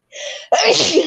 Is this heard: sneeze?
yes